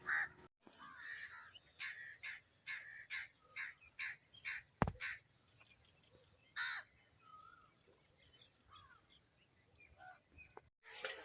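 A crow near a mango tree gives a run of about a dozen harsh caws in an uneven rhythm, fairly close and clear over faint background insect chirping, with a sharp knock partway through.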